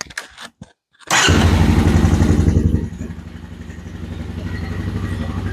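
A Honda Recon ATV engine cranks briefly and fires up without choke, catching into a loud, rough-running idle that settles lower and then climbs slightly, heard up close with no voices.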